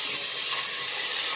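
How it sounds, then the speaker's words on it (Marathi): Onions sizzle in hot oil in a pan with curry leaves and green chillies, cooking for a vegetable paneer pulao, a loud steady frying hiss with no break. "आपण कांदा फ्राय करून घेणार आहोत"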